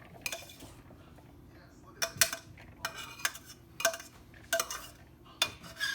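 A utensil scrapes and knocks against a pan as drained, browned hamburger meat is cleared out into a bowl, giving a series of sharp clinks and scrapes in irregular bursts over a quiet kitchen.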